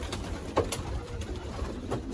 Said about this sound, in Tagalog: Hanapin natin mga kalapatids.